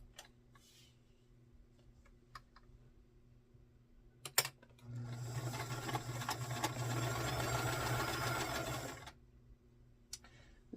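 An older sewing machine stitching a quilt starts after a few scattered clicks and a bump, running with a steady, rapid mechanical whir for about four seconds before stopping, followed by faint ticks in a quiet room.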